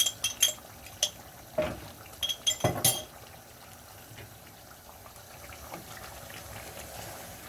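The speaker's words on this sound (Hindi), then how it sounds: "अब मैं मिक्स कर लूँगी इसको" Pickle being stirred into chicken biryani in a pot: a scatter of metallic clinks and scrapes of a spoon against the pot early on, then quieter soft stirring over low background noise.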